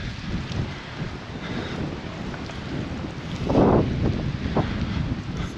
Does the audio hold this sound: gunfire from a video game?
no